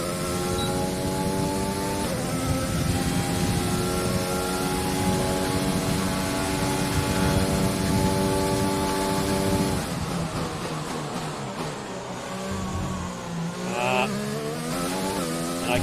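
F1 race car engines in the F1 2020 video game, a loud, steady high-pitched engine whine that holds and climbs, then turns rougher and shifts pitch through the second half as the cars brake and rev.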